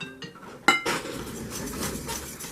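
Yellow box cake mix beaten by hand in a bowl: a sharp clink of utensil against the bowl, then steady scraping and rhythmic stirring that continues throughout, close and fairly quiet.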